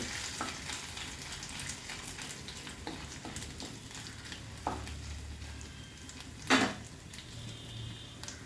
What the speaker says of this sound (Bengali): আদাটা একটু ভাজা হবে।